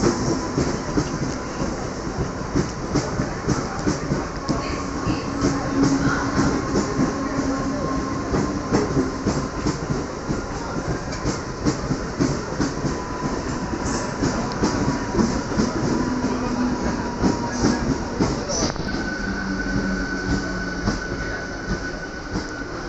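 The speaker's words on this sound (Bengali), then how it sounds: "আমরা ট্রেনে উঠে পড়েছি" A train rolls steadily along the rails, its wheels rumbling and clattering continuously, with faint squeals and a droning hum throughout.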